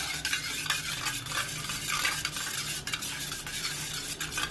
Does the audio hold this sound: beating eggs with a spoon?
yes